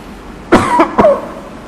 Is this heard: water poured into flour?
no